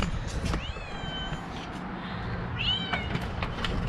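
A kitten perched on a door gives two thin, high meows, one early and one near the end, close by over faint room noise.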